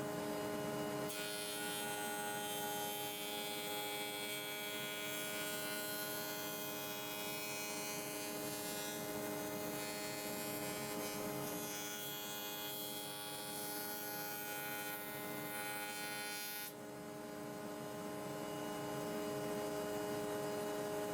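A Record Power PT260 planer thicknesser edge planing a workpiece held against the fence, a loud steady machine roar with constant hum that runs throughout and drops slightly near the end.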